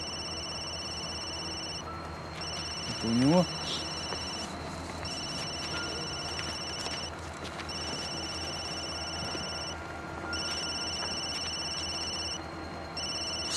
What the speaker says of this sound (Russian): Странный номер. Из-за границы, что ли, звонят?